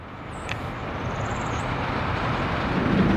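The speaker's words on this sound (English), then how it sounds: "Now we have trains too." Trains in the Soviet city-building game Workers & Resources: Soviet Republic: a low rolling rumble that swells steadily as the train passes, with a brief faint chime near the start.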